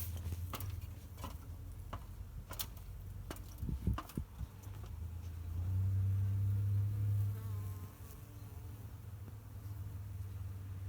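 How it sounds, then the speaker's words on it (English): Insects buzz steadily close by, a low droning hum that swells louder for a couple of seconds midway, with scattered clicks and faint rustling around it. "I just want you to hear these bees one more time."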